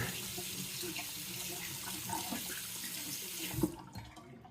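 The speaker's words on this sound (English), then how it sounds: "I'm going to go ahead and rinse the razor" A bathroom faucet runs steadily, close and moderately loud, as a shaving razor is rinsed under the stream; the flow cuts off abruptly near the end, leaving near silence.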